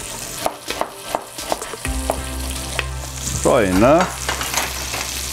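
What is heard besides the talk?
bacon rendering and frying in a pan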